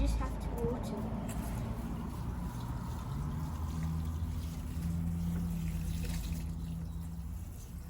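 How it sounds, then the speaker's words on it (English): Water poured over shredded paper bedding in a worm farm, a soft continuous splashing trickle under a low background hum, with a person talking nearby. "Now that the paper's on, you just have to water it."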